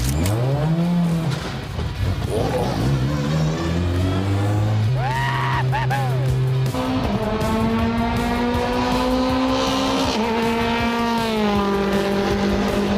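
A Formula 1 car driven fast around a racing track, loud high-revving engine notes climbing and dropping through repeated gear changes, close and continuous for several seconds.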